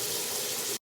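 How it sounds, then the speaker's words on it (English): Steady running water from a tap during handwashing before baking chocolate chip cookies, a broad even hiss that stops abruptly after under a second. "Wash your hands for 20 seconds."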